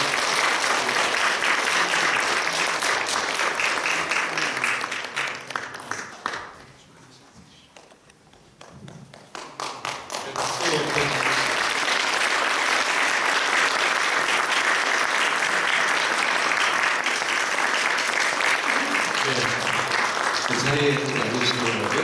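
A congregation at a church ordination service breaks into loud, sustained applause that dips briefly partway through, then swells again and carries on to the end.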